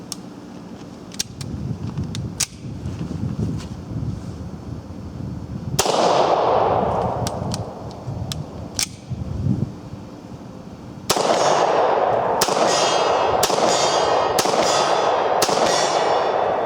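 An early double-action-only Beretta 96D State Police pistol fires .40 Smith & Wesson rounds, giving sharp, loud, close single reports spaced unevenly, with a quicker string of shots toward the end.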